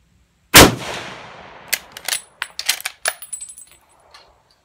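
Oberndorf Mauser 98 sporting rifle with a Zeiss scope fired at a range: one loud, sharp shot with a decaying tail, followed by a rapid series of light metallic clinks and rattles.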